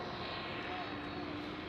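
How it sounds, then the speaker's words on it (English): A KLM Boeing 737 taking off from runway 24 at Amsterdam Schiphol gives a brief, steady jet roar, moderately loud, with a voice talking over it. "we do have KLM 737 taking off on runway 24"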